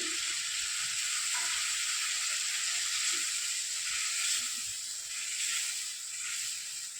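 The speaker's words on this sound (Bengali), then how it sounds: "বাটিটা ধুয়ে একটু জল দিয়ে দিচ্ছি" Water poured into a hot pan while making Bengali shukto, a steady loud sizzle and hiss that holds for several seconds and eases slightly toward the end, with no talk.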